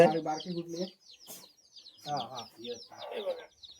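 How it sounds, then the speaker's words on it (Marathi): Young chicks kept in a basket on a small backyard poultry setup peep and cheep in close, lively bursts. A person speaks over and between the chirps. "ह्या टोपल्यात तर खाली पिल्ले आहे"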